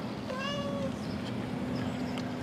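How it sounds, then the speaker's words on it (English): A house cat gives a single drawn-out meow with a falling pitch, heard against steady background hum and noise, with no speech. "It's a house cat."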